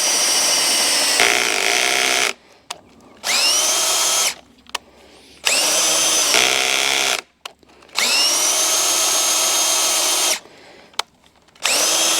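A power drill whines loudly in several long bursts, each with a rising pitch, separated by brief silent pauses, while building a hunting blind.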